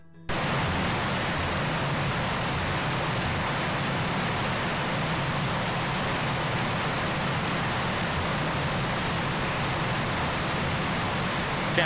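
Steady, dense rain in the Bee Movie video game, a continuous even hiss with no break from start to end.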